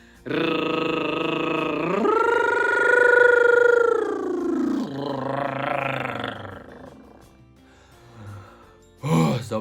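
A voice imitates a power drill with a sustained buzzing hum that rises in pitch, holds, then drops into a breathy rasp, followed by a short burst.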